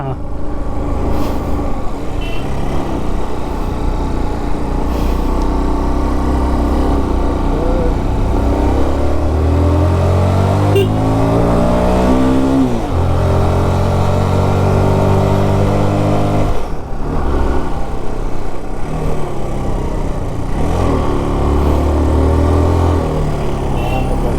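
A car climbs the steep, winding Masinakudi to Kallatti mountain road, its engine droning steadily and close, with pitch rising and falling as it shifts and revs through the bends.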